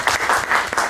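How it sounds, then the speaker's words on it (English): Applause from a seminar audience on immigrant expertise in business, a steady burst of clapping filling the whole second at moderate loudness with no talk over it. "A little applause."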